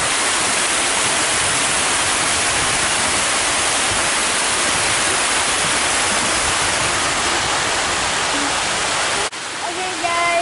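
A loud, dense waterfall in Town Green Park, The Woodlands, Texas, roars evenly and up close, a constant white rush that dips abruptly near the end as faint voices come through.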